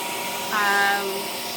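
A Conair soft bonnet hair dryer runs on its cool setting with a steady, fairly loud whooshing airflow and a faint whine that rises briefly when it kicks in, then settles into a constant hum.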